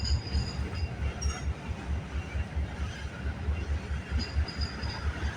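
A CPKC freight train passes near Kinnear Yard in Hamilton, a rhythmic rumbling roll of wheels heard fairly close with faint high squeals over it.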